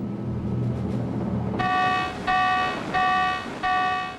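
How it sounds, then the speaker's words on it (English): Battle stations klaxon on a US aircraft carrier in the Pacific blares in four loud, evenly spaced metallic honks over a low engine-like rumble. "All of a sudden you hear that bong, bong, bong, bong going, the klaxon going off."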